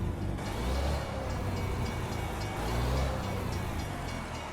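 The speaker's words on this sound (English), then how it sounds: "Whoa, train." A train passes in American Truck Simulator in small-town Missouri, a loud, sustained low rumble and rolling roar heard from a Freightliner FLD truck cab.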